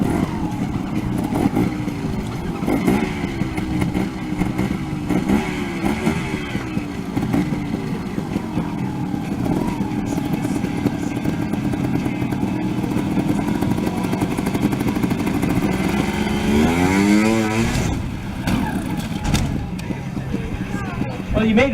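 A motorcycle at a stunt motorcycle show idles and revs, its engine rising and falling, then stalls, with people talking over it throughout.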